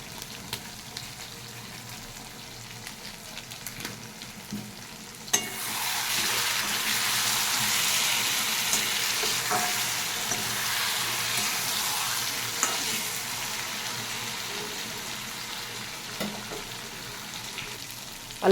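Spice paste for potato curry, with dried fenugreek leaves, sautés in a pan. After a few quiet seconds a loud, close sizzle starts and keeps going steadily with occasional stirring clicks.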